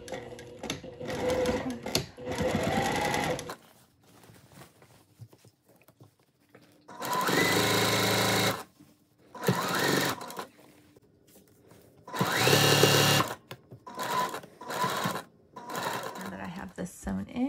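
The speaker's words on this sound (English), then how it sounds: "So now I'm going to sew at 1/2 inch." A sewing machine runs a half-inch seam on a floral sundress in several loud, steady bursts of whirring stitching, separated by pauses and stretches of talking.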